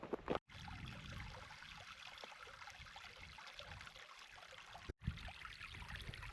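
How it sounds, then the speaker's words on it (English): Small side creek running down beside a mountain hut in the Australian Alps, a steady close rush and trickle of water that fills the whole clip, broken by two brief dropouts. "Small side creek coming down beside grey mare hut."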